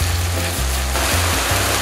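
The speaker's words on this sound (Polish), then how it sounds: "Następnie dodajemy mielone lub posiekane mięso wieprzowe. Smażymy mieszając od czasu do czasu" Minced pork frying in a pan for a pork and pinto bean quesadilla, a steady close sizzle and crackle with a low rumbling hum, continuous throughout with no voices.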